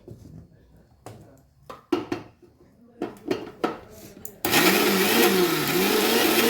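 A mixer grinder whirs loudly and continuously for a couple of seconds grinding raw mango chutney, preceded by clattering knocks and handling noises of the jar, close by.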